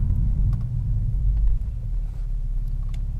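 BMW E60 5 Series in sport mode accelerating: a continuous deep, muffled engine rumble heard from inside the car, with a slight dip partway through.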